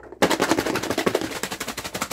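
Quail eggs rattle as they are shaken hard in a lidded container partly filled with water, giving a fast, loud, continuous clatter of tiny knocks up close.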